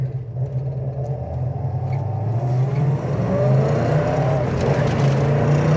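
A 1969 Mustang Fastback's numbers-matching engine fitted with an upgraded cam rumbles and revs, a deep loud burble that climbs in pitch as the throttle opens, close and without talk.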